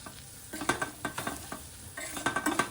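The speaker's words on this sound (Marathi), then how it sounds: "चांगलं परतून घ्यायचं" Kantola, spiny gourd, being sautéed in a pan, soft frying sizzle with quick clustered scrapes of a spoon stirring in two bursts, close and fairly quiet.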